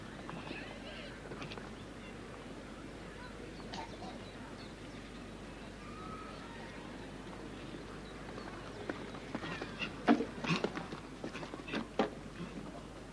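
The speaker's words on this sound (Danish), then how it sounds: "De lyde, vi hører, det er faktisk hesten." Hooves of a large Dutch warmblood show jumper at the 1985 Aachen Grand Prix, heavy thuds and snorts that grow louder near the end, heard over crowd ambience and a commentator talking.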